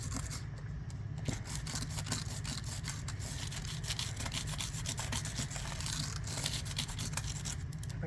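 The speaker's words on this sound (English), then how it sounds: "I'm gonna rub this in a little bit." Material is rubbed in by hand on a mixed media artwork, a steady close-up scratchy friction of quick repeated strokes continuing without pause.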